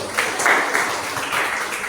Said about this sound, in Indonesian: tepuk tangan buat Rizky